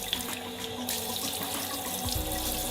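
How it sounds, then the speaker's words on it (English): Water sprays steadily from a bidet shower hose in a Finnish bathroom, a continuous hiss of running water from close by with no voices. "I think you just turn on the hose and then just press."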